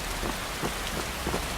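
Steady rainfall in the Skyrim video game world, a dense, even hiss of drops on surfaces with faint low rumbling, continuous and fairly soft throughout with no talking.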